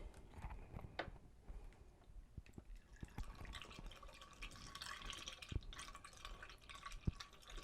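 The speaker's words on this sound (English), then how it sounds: "We're going to pour some more of our juice back in," Apple juice is poured into a homebrew hard cider fermenter, heard as faint trickling and splashing with scattered drips and small knocks, quiet and close, with no speech.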